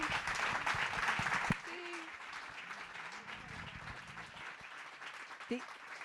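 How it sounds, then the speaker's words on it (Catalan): Conference audience at a European 4D event bursts into applause that cuts off abruptly after about a second and a half, leaving quieter room murmur and scattered faint voices. "Aplaudiments, sisplau."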